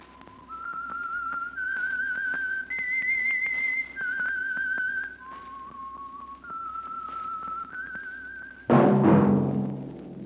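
A person whistles a slow, melodic tune of sustained notes, clear and close, ending with a sudden swell of orchestral sound, the opening signature of the radio mystery program The Whistler.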